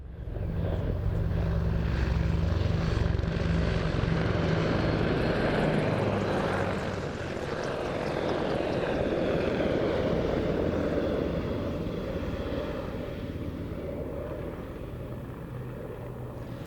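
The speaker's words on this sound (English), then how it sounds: "The pilots throw the aircraft into a rapid return to target" A military gunship flies a display at the Royal International Air Tattoo 2025, its loud engine drone and rotor rumble holding steady overhead, then easing slightly as it moves away.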